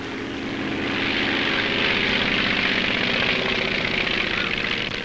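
A stunt airplane flying low over a field with a handkerchief on the ground, its propeller engine droning loud and steady, swelling slightly as it passes close, with no voices.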